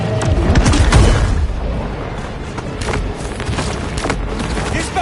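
A loud, deep boom from a torpedo explosion in the shark game Maneater opens with a heavy blast, then gives way to a rumbling, churning roar that carries on to the end.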